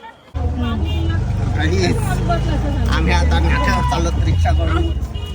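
Auto rickshaw ride through Pandharpur: a steady engine drone and rumbling road noise run continuously after a brief quiet start, with people talking over the ride.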